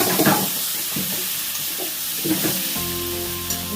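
Spice paste for a prawn and pointed gourd curry sizzles and fries steadily in a pan with stirring scrapes, close and continuous, ending in a low hum.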